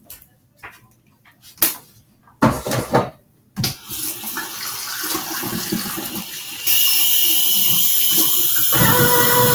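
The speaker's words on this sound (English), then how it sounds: "I'm going to wash my hands" A faucet runs into a sink for handwashing in an exam room, starting with a few clicks and splashes, then building to a steady close stream of water that grows louder toward the end.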